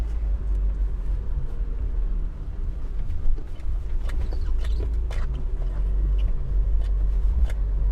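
Low, smooth engine rumble from a freshly restored Euro-spec Mercedes 190E 2.3-16 cruising at relaxed revs, with road noise and a few light interior clicks, no one speaking.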